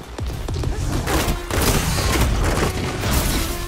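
Grenade blast in a squad battle video game, a heavy boom with crashing thuds over dense ongoing gunfire and game noise, loud and close.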